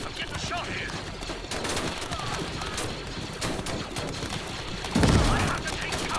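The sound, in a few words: gunfire from droids in video game Star Wars: Galaxy at War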